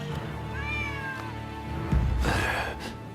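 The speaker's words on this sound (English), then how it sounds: "Who'd have thought a stray cat would wander in?" A stray cat meows in the video game Rise of the Ronin, a few clear, close, rising and falling mews over a quiet ambient game background, followed by a breathy burst.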